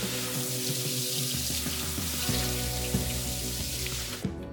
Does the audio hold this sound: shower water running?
yes